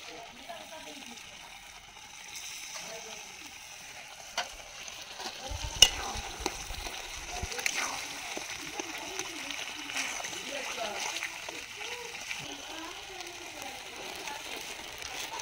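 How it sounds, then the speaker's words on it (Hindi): Tomatoes tipped into a sizzling duck curry in the pan and stirred, a soft steady sizzle with scraping spoon strokes and a few clicks and splatters, close by, as a voice talks over it. "दोस्तों अब टमाटर को भी डाल देंगे।"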